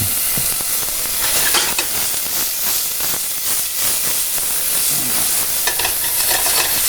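Oil hisses and sizzles in a hot cooking pan as it is swirled around, a steady, close frying sound with occasional scraping stir noises and no voices.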